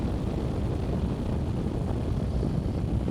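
A Suzuki V-Strom 1050 XT motorcycle is underway, its engine a dense, continuous roar mixed with heavy wind rush from riding at speed.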